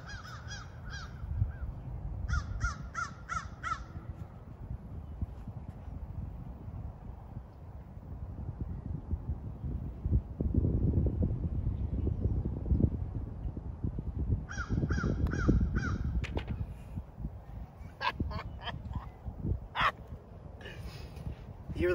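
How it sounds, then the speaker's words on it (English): A crow caws in short bursts of two or three calls, repeated several times at a distance over wind rumble and outdoor background noise on a golf course. "You hear the bird calling?"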